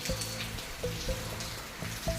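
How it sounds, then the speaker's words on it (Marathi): Soft monsoon rain patters steadily on surfaces, a quiet, even wash with a few faint distant tones and clicks mixed in. "अजूनसुद्धा पाऊस पडतोच आहे"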